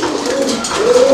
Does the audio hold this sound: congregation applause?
no